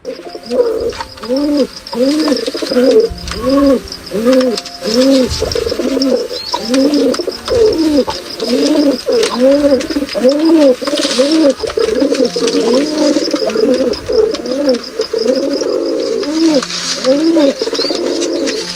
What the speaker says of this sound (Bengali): দেখে বোঝা যাচ্ছে কবুতর চলে গেছে মুরগির খোপে